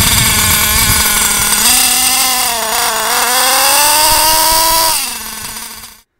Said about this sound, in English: At this point, you can see I'm giving it full throttle, but it's getting excessive smoke, and the vehicle's moving very slowly.